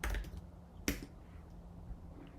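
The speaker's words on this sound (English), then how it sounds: "I'm just going to type locomotion" A few keystrokes tap on a computer keyboard, one sharp close click standing out over a quiet room hum, with no talking.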